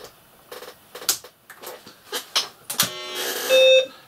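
A BBC Micro home computer switching on, giving a short steady electronic beep near the end after a few clicks and handling knocks, close and fairly loud.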